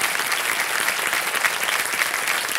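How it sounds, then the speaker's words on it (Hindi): Studio audience applause on a television quiz show, a thick, sustained wave of clapping from many people, loud and even throughout. "तालियां"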